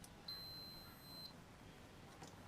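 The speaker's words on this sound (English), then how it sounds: "I should be able to get a beep to the case" A multimeter gives a single steady continuity beep lasting about a second while testing a green ground wire to the case on a CT110 Postie motorcycle, faint against a quiet room hiss.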